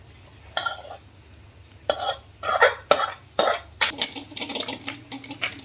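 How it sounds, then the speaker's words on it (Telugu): Oil-fried tamarind leaves pounded in a stone mortar for chutney: a series of dull, irregular thuds and grinding scrapes, close and fairly loud, with a low hum beneath. "ఇప్పుడు మనం నూనెలో వేయించుకున్న చింతాకు తోటలో వేసుకొని దంచుకుందాం"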